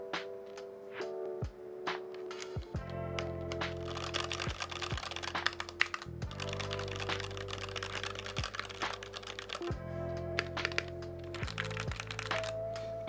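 Keys clack in quick, uneven bursts on an NK65 Entry Edition mechanical keyboard fitted with Tealio V2 switches, close and crisp, with deeper thocks now and then and no talking.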